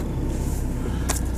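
A BMW X3 engine idles steadily while the car sits raised on four axle stands, back wheels in the air, giving a continuous low rumble throughout with a brief higher clunk near the end.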